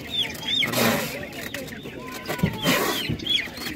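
Chickens and roosters clucking and calling at an outdoor animal market where poultry is sold, several birds near and far with repeated clucks and crowing-like cries over market bustle and voices.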